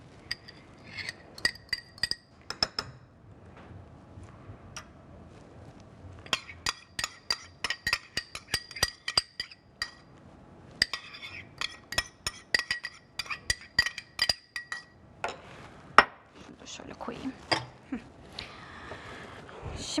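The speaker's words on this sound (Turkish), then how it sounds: "Şimdi bunu da şöyle biraz daha karıştırayım." A spoon stirs cold ayran soup in a bowl, giving a long run of quick, bright metallic clinks against the bowl. The clinks come in uneven clusters with short pauses and no voices.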